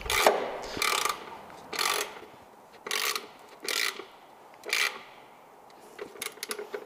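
A torque wrench ratchets in repeated bursts while a 24V LiFePO4 battery pack of Lishen 272Ah cells is assembled on wood, with about six distinct close clicking runs separated by short pauses.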